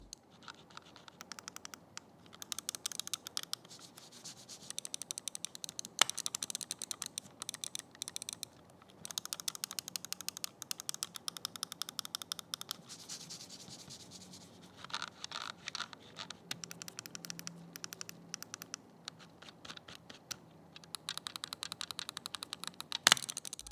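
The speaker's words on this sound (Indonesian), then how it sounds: "berikut ini deh merupakan contoh suara dari switch yang ada di mouse Asus TUF Gaming" Rapid, crisp clicking in quick bursts, the switches of an Asus TUF Gaming M4R mouse pressed repeatedly with short pauses between runs, close up and fairly quiet.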